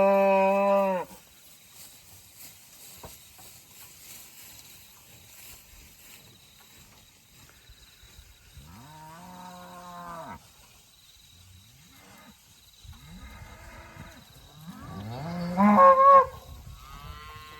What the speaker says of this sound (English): Comes a trade cow, this Charolais with the horns.